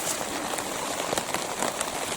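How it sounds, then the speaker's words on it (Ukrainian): Steady, dense patter of rain falling on a surface, a continuous hiss with scattered drips throughout, fairly close and moderately loud. "Дощик пропустився, ще більше падає."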